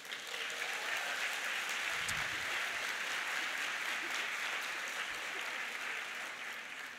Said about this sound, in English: I like to hear all that clapping